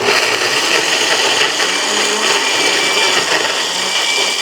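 An electric blender grinding garlic, shallots and bird's-eye chili into a spice paste, a continuous loud whirring motor drone held steady throughout, close with no talk.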